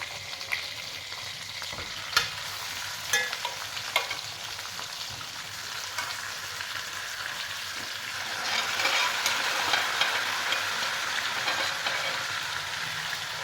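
Light-browned chicken pieces for chicken tikka fry with roasted cumin in a pan. A steady, close sizzle carries a few sharp scrapes and clicks, and the hiss grows fuller toward the end.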